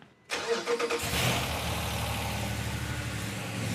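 A 1970 Plymouth Barracuda with a 392 Hemi engine cranks briefly with a whirring starter, catches, and settles into a steady, rumbling idle close by.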